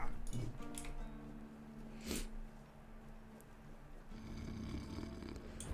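A character snores faintly in the video game Tainted Grail: The Fall of Avalon, with a couple of soft snorting breaths over low, steady ambient game sound.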